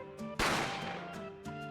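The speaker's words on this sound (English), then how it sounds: "A gunshot rang out" A single sharp gunshot effect in The Great Ace Attorney video game, a sudden loud crack with a decaying tail over quiet background music.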